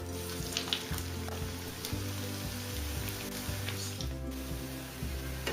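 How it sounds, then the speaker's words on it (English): Mixed-vegetable Manchurian balls deep frying in hot oil give a steady, close crackling sizzle that runs throughout over a low, constant tonal hum. "Heat the oil again and then we are going to fry this until crisp. Add in the Manchurian balls into the oil."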